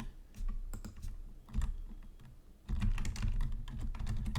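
Fingers tap on a computer keyboard in quick, uneven bursts of close clicks, with steady keystrokes throughout and a low background hum underneath.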